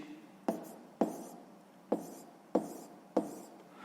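A pen writes numbers by hand on paper during a sixth-grade math exercise, giving five short, crisp scratching strokes at roughly even intervals, close up, with no talking.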